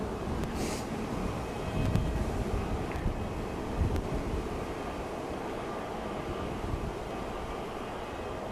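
Wind buffets the microphone outdoors at Manchester Airport, a continuous low rumbling roar with a few gusty bumps, fairly quiet overall.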